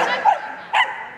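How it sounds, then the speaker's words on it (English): A working Cocker Spaniel gives two quick sharp barks at a Crufts agility event, close and loud, with an announcer's voice faintly around them. "Bly Fox is on the line with Rue, the working Cocker Spaniel. A noisy one."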